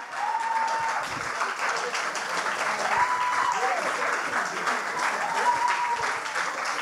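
Audience applause at a science slam, broad continuous clapping from a crowd, fairly loud, with faint tonal sounds and some voices mixed in.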